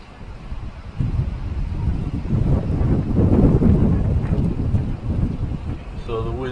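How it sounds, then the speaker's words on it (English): Wind gusting down from the Columbia Gorge near Portland, Oregon, during a September windstorm rises into a loud, blustery roar that buffets the microphone and swells and dips over several seconds, with a voice faintly heard near the end. "It's starting to gust now."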